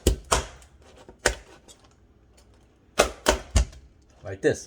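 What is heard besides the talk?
cutting lobster tail into little pieces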